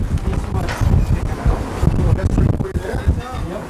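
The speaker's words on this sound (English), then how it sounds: "it's very windy and cold out here" Gusty wind buffets the microphone outdoors by a school in Idaho, with rumbling, uneven low bursts, loud and close, and a voice is faintly audible beneath it.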